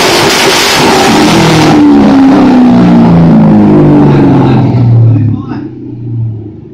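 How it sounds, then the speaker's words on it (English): A car engine revs hard and loud up close, its roar rising and sliding in pitch before dropping away, with shouting voices over it. "Rev it up one time."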